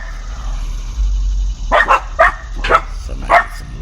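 Dogs at a home in Atlanta bark in four close, loud bursts, spaced about half a second apart, over a low background hum.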